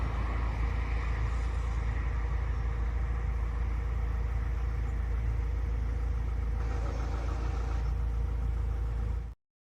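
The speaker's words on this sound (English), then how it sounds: "That noise in the background is just the engine of the van." A van engine idling as a steady, loud low rumble with a constant hum that runs without a break, then cuts off abruptly at the end.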